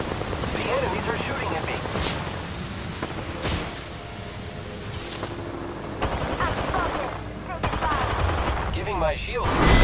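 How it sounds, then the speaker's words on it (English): Automatic weapon fire from enemies in the Apex Legends battle royale game crackles in dense, repeated bursts across the whole stretch, loud and close, with sharp individual shots standing out amid the busy combat mix. "The enemies are shooting at"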